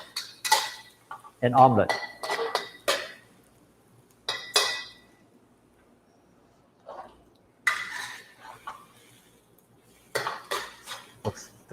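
A utensil stirring egg and tomato in a wok, irregular clinks and scrapes of metal against the pan in short bursts with quiet gaps, alongside a brief spoken phrase.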